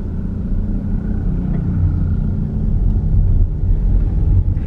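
Automatic car gently accelerating in traffic, light pressure on the gas pedal; a steady low engine and road rumble fills the cabin at moderate level, swelling slightly toward the end, with no talking.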